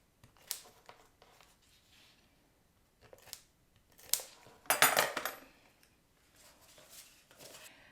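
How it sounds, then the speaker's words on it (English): Tape goes onto a folded paper card for a fun-fold card design: scattered close clicks and crinkly rustles, with a louder burst of tearing and handling near the middle and quieter fiddling either side, no talking. "We're going to add some tape right here on both sides."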